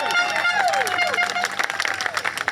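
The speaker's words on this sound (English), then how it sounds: "massive round of applause for yourselves as well" An outdoor crowd in Parliament Square claps and cheers, a busy burst of applause mixed with shouting voices and babble, loud and close.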